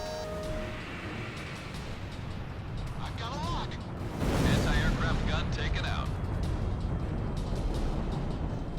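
Anti-aircraft gunfire from a ground emplacement in the jet combat game Ace Combat 6 forms a dense, continuous rumbling barrage. It grows louder and busier midway, with crackling bursts over engine roar.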